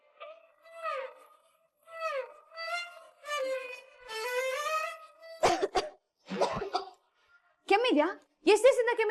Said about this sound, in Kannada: ಕೆಮ್ಮಿದ್ಯಾ? ಎಷ್ಟು ದಿವಸದಿಂದ ಕೆಮ್ಮಿದೆ?